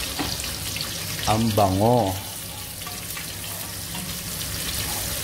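Onion sautés in a pan for ginisang munggo with a steady, close sizzle, and a voice speaks briefly over it.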